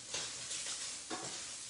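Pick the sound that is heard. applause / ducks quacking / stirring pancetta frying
stirring pancetta frying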